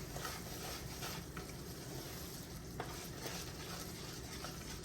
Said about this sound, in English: We're going to stir that all together.